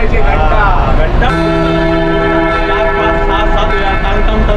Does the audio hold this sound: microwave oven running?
no